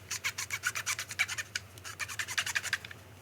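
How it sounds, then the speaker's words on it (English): Cotton swab rubbed back and forth across the contacts of a dirty game cartridge, a quick run of close, soft scratchy strokes repeating steadily, alone without talk. "Let's try the con swab again."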